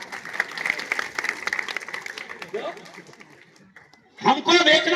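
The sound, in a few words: crowd applause at political rally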